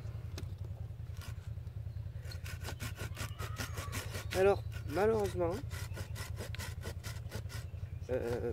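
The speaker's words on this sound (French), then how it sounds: "Donc il faut encore que je scie" Steady back-and-forth hand sawing through green wood, a continuous rhythmic rasp of strokes, with a voice briefly speaking over it partway through.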